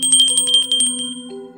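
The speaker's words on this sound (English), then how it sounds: "Is there a little bell or anything at the desk?" A small desk bell rings in a bookstore with a bright metallic tone, struck in a quick series of rapid dings that then ring out and fade.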